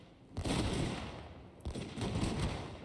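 Massed arquebus volleys crackle through a video game battle between arquebusiers and Chosokabe daikyu samurai, a dense, sustained roar of overlapping shots with a brief lull before the firing swells again.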